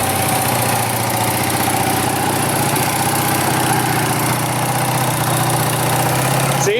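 A Honda Rebel 250 with an Emgo slip-on muffler idles steadily on a cold start, a loud, continuous deep rumble close by that holds throughout with no talking over it.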